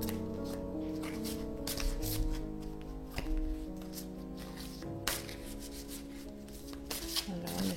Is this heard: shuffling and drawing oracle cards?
yes